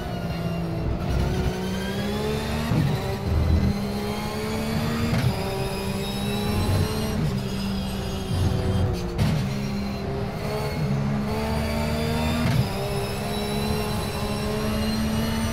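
Flat-six boxer engine of a Ruf Cup race car in the sim racing game Automobilista at Virginia International Raceway, droning steadily and loudly throughout with rising and falling revs through gear changes, no talk.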